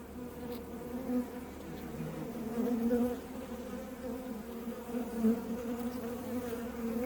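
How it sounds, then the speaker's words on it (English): Honeybees hum inside an opened wooden hive during a late-season inspection, a soft, steady, close drone with gentle swells and no voices. "Few bees in this comb."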